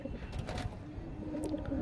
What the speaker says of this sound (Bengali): দুটোই শাকসবুজ পায়রা।